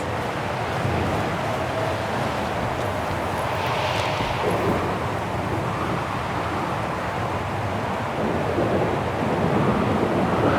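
Thunderstorm in the video game Syberia: The World Before, a steady wash of broadband storm noise with low rumble and rain-like hiss filling the whole stretch, swelling slightly near the end.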